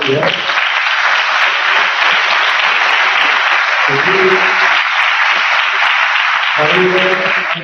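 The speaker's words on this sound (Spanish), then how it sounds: "Por favor, un aplauso para él." An audience applauds the jury at a Stephen Hawking prize ceremony, a loud, sustained wash of many hands clapping, with a voice speaking briefly over it near the middle and again at the end.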